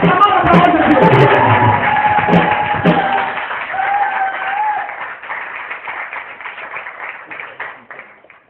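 A church congregation claps and cheers to welcome speakers to the pulpit, a dense burst of applause with whoops that thins out and fades into scattered claps.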